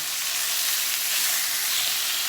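Chicken fries in a Saladmaster pan, giving a continuous bright sizzle and hiss that stays steady and close throughout, with no talking.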